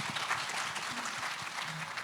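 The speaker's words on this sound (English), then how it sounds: "please give them a round of applause" Audience applause for panelists at a Women in Tech discussion panel, a steady spread of hand clapping at moderate level sustained through the whole moment.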